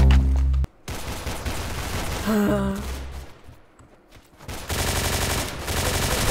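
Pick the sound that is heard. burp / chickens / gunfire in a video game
gunfire in a video game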